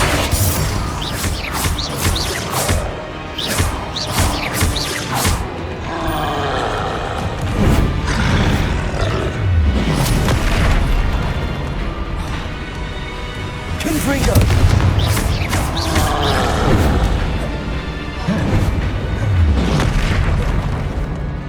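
Confringo fire spells in Hogwarts Legacy go off as a run of loud, booming blasts and crashes, repeating over the whole span amid layered game effects and occasional voices.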